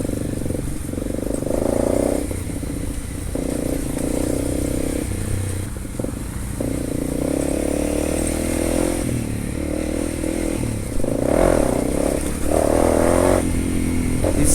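A BMW 1250 adventure motorcycle riding a rough mountain road near Manang in Nepal; a loud, steady engine drone close by, with rattles and clatter from the bumpy surface and occasional swells in throttle.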